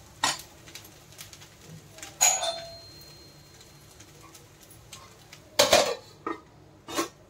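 Kurma rice with peas and corn being mixed in a cooking pot, heard as a few sharp metal spoon clanks and scrapes against the pot spaced apart over a quiet background.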